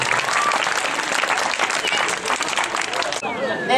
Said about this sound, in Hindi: एक बार जोरदार तालियों के साथ स्वागत कीजिए।